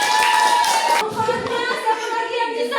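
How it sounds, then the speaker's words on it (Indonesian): Classroom applause during a lesson, hands clapping in a dense burst for about a second, then lighter scattered claps continuing over background voices. "Iya, tepuk tangan."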